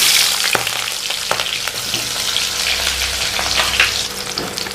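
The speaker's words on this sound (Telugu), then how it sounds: "బాగా ఎర్రగడ్డలు పచ్చిమిరపకాయలు బాగా వేయించుకోవాలా బాగా వేయించుతాండా" Onions and green chillies, with cumin, fry in hot oil for a liver curry, making a loud, continuous sizzle with a few soft stirring knocks.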